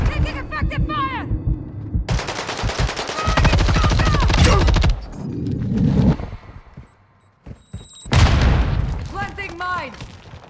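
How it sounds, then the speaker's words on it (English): Heavy gunfire in Call of Duty Vanguard: loud bursts of automatic fire and booming shots pour out in long rapid strings, with short pauses between bursts, while game voices call out over the shooting. "Taking effective fire!"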